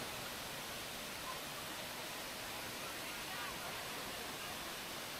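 Sungai Pandan Waterfall in Kuantan, Malaysia, a broad, even roar of falling water that continues unbroken throughout at moderate loudness.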